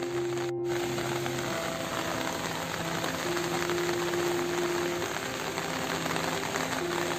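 Steady rain falls without pause in the Konkan region, a dense even hiss of drops on surfaces, with a faint low hum running underneath.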